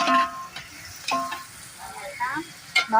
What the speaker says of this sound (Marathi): कांदा टोमॅटो आणि गाजर टाकले